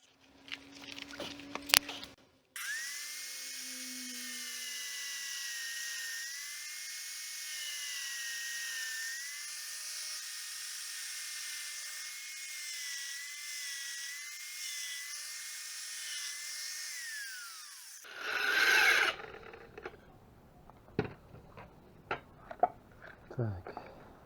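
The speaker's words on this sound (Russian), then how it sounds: "Поехали пилить." A power saw whines steadily through decorative facing stone for about fifteen seconds, its pitch dipping slightly under load, then winds down. Brief knocks and handling noises come before and after.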